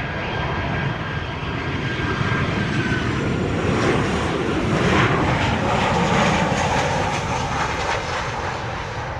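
Jet airliner on final approach and landing on runway 07 at Montego Bay airport in Jamaica, a loud, steady broadband engine roar that swells slightly mid-clip and holds throughout, with no talk.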